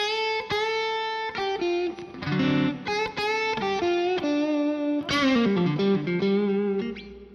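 An electric guitar plays a melodic lick through effects with a distorted, chorused tone, a run of clear sustained notes and slides that is loud and close with no talk.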